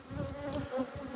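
Bees hum around a hive on farmland near national park, a soft continuous buzzing with small pulses as individual insects drift close and away.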